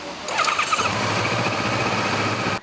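A police patrol motorcycle engine cranks and catches, squealing briefly before settling into a steady, close idle rumble that cuts off abruptly at the end.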